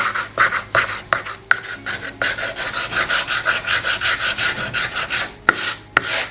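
Whitewashed wood gets rubbed by hand with sandpaper to distress it, a steady rasping scrub in repeated strokes, close and fairly loud with a few sharper knocks.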